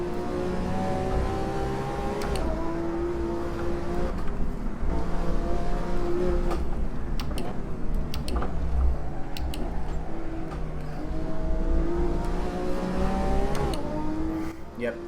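A Lamborghini Aventador SV in the racing game Assetto Corsa revs hard, its engine climbing through rising pitch sweeps with shifts in between and brief tire squeals, while someone talks over it.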